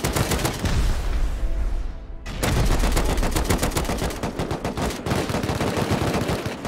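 AK rifle fire in the survival game Rust: a single shot, a brief pause, then a rapid burst of automatic shots that runs to the end, close and loud.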